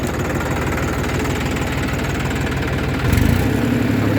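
A 4x4 tractor in second gear drives a Shaktiman rotavator through a banana field, its engine chugging loud and steady nearby, with a brief surge near the end.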